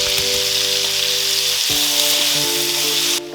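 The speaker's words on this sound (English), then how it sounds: "we're going to go in with a nice knob of butter and some garlic" A steak fries in a pan with butter and garlic, making a loud, dense, continuous sizzle close by with a faint hum underneath. It cuts off abruptly just before the end.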